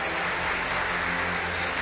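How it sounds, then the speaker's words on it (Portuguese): A church congregation applauds during a service, a steady, dense wash of clapping that holds at an even level from start to finish. "Aplauda Jesus essa noite."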